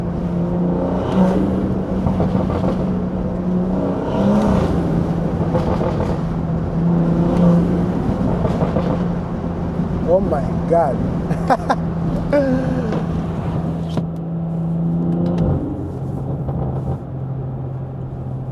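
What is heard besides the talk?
BMW 340i B58 engine revving and accelerating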